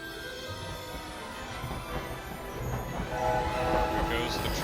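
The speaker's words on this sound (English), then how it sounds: "There goes the train." A train rumbles past in the Hogwarts Legacy video game, a steady broad rumble building slightly in loudness, with a faint horn-like tone toward the end and some speech present.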